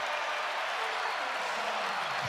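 Crowd at Madison Square Garden roaring and cheering after a tip slam by Robinson during a Knicks versus Nets game, a dense, steady wash of noise sustained loudly throughout.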